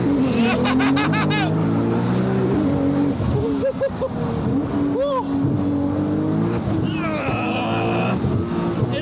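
A 1200 hp Nissan R35 GT-R driven hard, its engine revving and roaring loudly through repeated rising and falling sweeps with sharp throttle blips, close and aggressive from start to finish.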